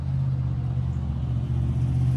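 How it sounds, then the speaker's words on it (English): Steady traffic rumble from a busy road running through a neighborhood, a continuous low drone of passing cars with no voices. "I apologize for the road traffic."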